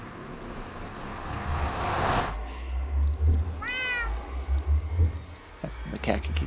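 A cat meows in a Minecraft-style video game, a short rising-and-falling call over a low rumbling background, with a person talking intermittently around it.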